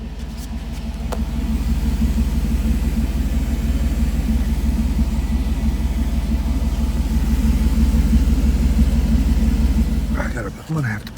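A Mercedes R129 SL with a muffler idles nearby, giving a steady, deep, low rumble that runs unbroken for about ten seconds before a short clatter at the end.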